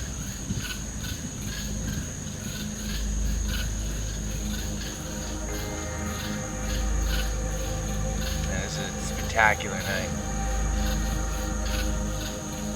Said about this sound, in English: This forest is alive with noise. There's like frogs, night birds, heard some owls earlier.